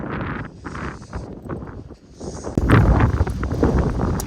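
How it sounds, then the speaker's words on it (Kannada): Strong wind on Kappathagudda hill buffets the microphone in a steady roaring rush, growing louder and harsher partway through, with no voices. "ಯಾಕಂದ್ರೆ ಗಾಳಿ ಫುಲ್ ಐತಿ"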